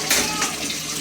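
Broken rice (khud) swishing and splashing in water as it is rinsed by hand, a close, steady wet sloshing with a brief louder slosh near the start.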